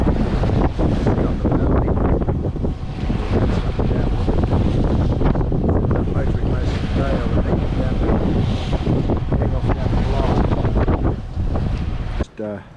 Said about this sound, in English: We've got a bit of a wind on the bow.